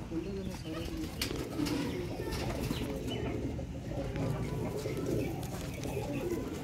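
Soft cooing from Teddy breed pigeons and occasional wing flutters over a steady background murmur, with a voice speaking now and then.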